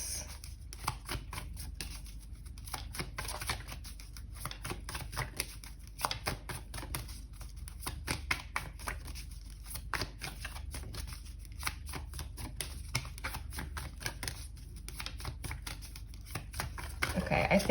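Tarot cards shuffled by hand in a long, steady run of crisp riffling flutters, close and fairly quiet, with brief pauses between bursts.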